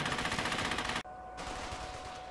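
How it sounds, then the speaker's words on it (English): In a battlefield video game, machine gun fire hammers out as a rapid, dense burst that cuts off abruptly, followed by a steady roar of continuing fire or noise at a similar level. "I need him to destroy that machine gun"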